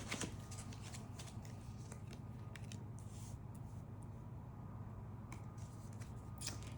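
A new deck of slippery tarot cards is shuffled close by, making soft repeated riffling and flicking bursts over a quiet background, with no talk.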